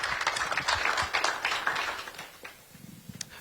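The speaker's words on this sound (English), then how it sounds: "So a round of applause for Dr." An audience at a Northern Michigan community event on data centers claps to welcome a speaker, a dense patter of hands that thins out and fades toward the end.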